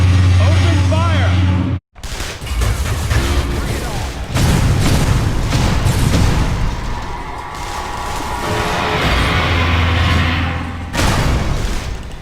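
Gunfire and explosions from the video game Metroid: Other M: loud, dense volleys of shots and heavy booms roll almost continuously, broken by a brief drop to silence early on, with voices shouting over the battle.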